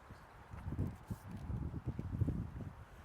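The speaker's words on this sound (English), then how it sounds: "Some horses here." Horse and pony hooves clop at a walking pace on a hard path on Frodsham Marshes, an irregular series of soft thuds under light wind.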